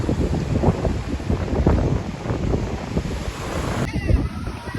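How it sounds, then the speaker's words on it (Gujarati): Sea waves wash in at the shore in Daman, a steady broadband roar of surf mixed with wind buffeting, continuous and fairly loud across the whole stretch. "દરિયાનું પાણી નજીક આવતું જાય હો"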